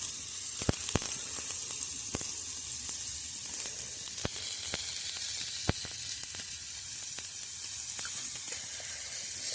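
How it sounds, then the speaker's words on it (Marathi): Fish pan-frying in oil in a Konkan home kitchen, a continuous close sizzle punctuated by sharp, scattered crackles and pops of spitting oil. "हे बघा आपण मस्तपैकी परतून घेतलेले आहेत मासे"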